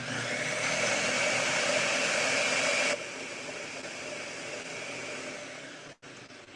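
A blender pulses pumpkin puree and oatmeal into a flourless pancake batter, its steady whirring roar running loud and close before dropping to a lower, rougher drone and cutting off abruptly near the end.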